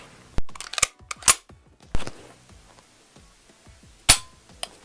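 Sharp mechanical clicks and snaps from a Derya MK12 semi-automatic 12-gauge shotgun with a 14-inch barrel as its trigger is dry-fired and the action worked, about half a dozen crisp, close metallic clacks spaced irregularly with quiet between.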